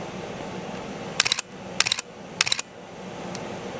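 Nikon F4 film camera shutter firing in single shot mode: three separate sharp mechanical clicks at even intervals, close and crisp, each a short burst of shutter and mirror action, with no voices.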